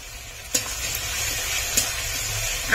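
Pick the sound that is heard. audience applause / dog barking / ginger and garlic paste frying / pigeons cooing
ginger and garlic paste frying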